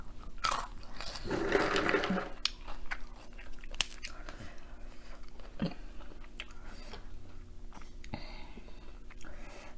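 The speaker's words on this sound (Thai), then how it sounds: "เคี้ยวกระเคี้ยวแต่ข้างนี้ ยังไม่กล้าเคี้ยวข้าง" Steamed shrimp and som tam salad being eaten up close, with crunchy bites and moist chewing sounds in irregular bursts, plus faint whispery breaths.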